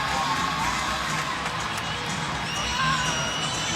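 A loud, steady crowd roars and cheers through a college gymnastics meet between Iowa and Minnesota, with whoops and shouts rising over the dense arena noise throughout.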